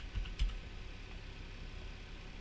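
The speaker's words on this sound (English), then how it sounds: "I'm going to type block." A few quiet keystrokes on a computer keyboard, two soft clicks near the start of a short stretch, then only faint room noise.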